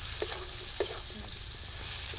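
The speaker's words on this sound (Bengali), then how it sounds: "ভেজে রাখা বড়াগুলো দিয়ে হালকা নেড়ে চেড়ে" A loud continuous sizzle of frying fills the clip as fried cauliflower-stalk fritters are stirred into masala, with a few soft scrapes and knocks of a spoon.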